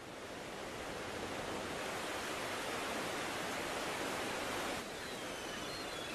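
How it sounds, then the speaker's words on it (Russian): Roaring, unbroken rush of the White Nile torrent, wild and powerful at its outflow from the lake in Uganda, a loud dense wash of white water that holds steady throughout, with no voices. "На северо-западе озера бурным необузданным потоком начинается Белый Нил."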